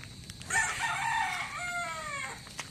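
A rooster on a backyard pig farm in the provinces crows loudly and close, a drawn-out call over a quiet farmyard background with faint clucking.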